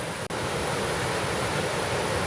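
Big Falls on Big Cedar Creek in a Virginia nature preserve gives a steady, dense roar of falling water, loud and unbroken apart from one tiny dropout near the start.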